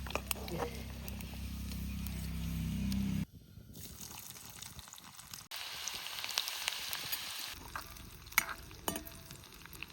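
Onion frying until reddish in a pan for egg masala, with a heavy low rumble at first, then a lighter crackling sizzle and scattered scraping and clinks.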